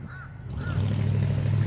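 Crows cawing outdoors under an open sky, two harsh calls close together near the start, followed by a steady low hum that builds and lingers underneath.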